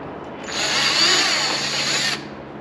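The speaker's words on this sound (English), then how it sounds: "we were drilling holes in her car today." A power drill drilling holes in a Cadillac CTS-V Sport whines steadily for about two seconds, close and fairly loud, then cuts off.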